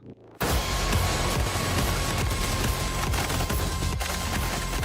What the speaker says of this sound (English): The player fires a double-barreled shotgun at policemen down a staircase